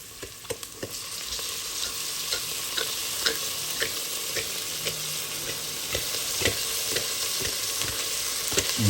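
Kohlrabi, garlic, onion and corned beef sautéing in a pan give a steady close sizzle and frying hiss, with scattered clicks and stirring scrapes throughout and no talk.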